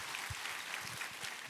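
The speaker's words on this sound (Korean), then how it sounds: "우리 하나님께 감사와 영광의 박수 올려드리겠습니다" Congregation applauding in a Sunday church service, a brief, quiet burst of steady clapping heard from a distance, short and even with no talk over it.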